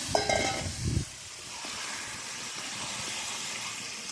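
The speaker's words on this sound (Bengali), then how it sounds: "এবার মাংসগুলো দিয়ে দেবো।" Mutton pieces drop into a hot pan over a wood fire, with a brief stirring clatter at first, then a steady, loud, continuous sizzle and hiss that carries on alone.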